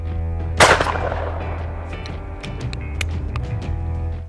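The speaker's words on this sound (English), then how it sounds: "shooting at the right hand edge of that target" A single sharp shotgun blast fired at a target 40 yards away on an outdoor range, a loud crack with a lingering tail over a steady low hum, followed by faint clicks and handling noises.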